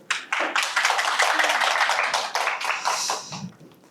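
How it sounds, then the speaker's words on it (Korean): An audience at a public science lecture claps to welcome the speaker, a dense burst of applause that swells quickly, holds, then thins out and fades away near the end. "박수로 맞이해주세요."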